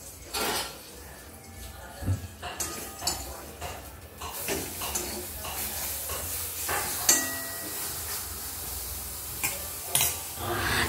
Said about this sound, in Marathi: जास्त नाही, थोड्याशा तेलात फ्राय करते.